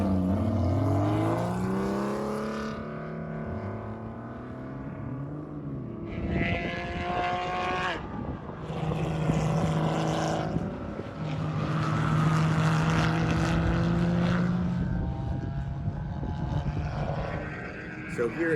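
A race car is tested on the track at COTA, its engine droning and shifting pitch as it passes, with speech heard over parts of the run.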